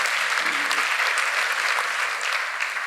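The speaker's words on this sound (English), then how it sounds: "A hand clap to the Health Awareness Committee." A seminar audience claps for a health awareness committee after a nutrition and exercise talk, a dense, even burst of hand claps that holds steady for a few seconds with no talking.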